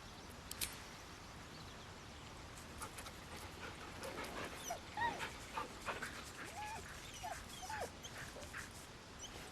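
Dog whimpering and panting in the Baldur's Gate 3 video game, with high thin whines and soft breathy pants repeating over a low ambient game background, fairly faint throughout.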